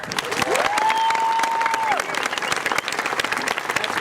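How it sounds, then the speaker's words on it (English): A high school graduation crowd breaks into loud, sustained applause for the 2017 Teacher of the Year, with a long tonal whistle-like note rising over the clapping early on before the applause continues alone. "Please give a round of applause for 2017 Teacher of the Year, Monica Bascar."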